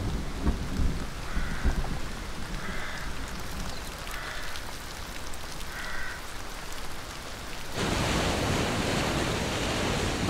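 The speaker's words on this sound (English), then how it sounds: "October and November are amongst the wettest months of the year, with rain falling on 2 out of 3 days" Heavy autumn rain pours steadily across the Scottish Highlands as a dense, continuous hiss, thickening into an even louder downpour toward the end, with faint higher chirps surfacing occasionally.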